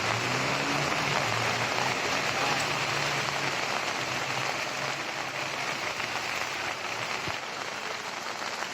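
Heavy rain pours down in Nalasopara, Palghar, a dense, continuous hiss of drops hitting surfaces that stays steady throughout, with a faint low hum underneath and no voices.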